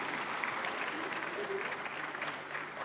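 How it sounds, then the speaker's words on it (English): An audience at a Chartered Accountants' Day celebration applauds in a dense, steady round of clapping that carries on throughout, with a voice faintly audible beneath it. "A huge round of applause to Girish Ahuja ji for his enlightening address."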